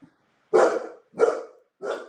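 A household dog gives three loud, close barks spaced about half a second apart, each a sharp burst that trails off quickly, with a short faint yelp just before them and no talking.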